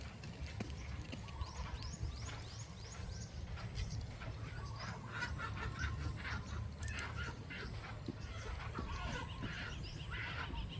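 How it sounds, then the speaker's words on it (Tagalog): Ducks quack and chickens squawk as a duck and chicken fight in an agitated scuffle on a farm, amid constant farmyard noise, with short bursts of calls and flapping throughout. "Nag-away oh, pato at saka manok."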